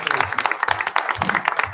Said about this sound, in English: And also a round of applause for the valedictorian, Sarah Stevens.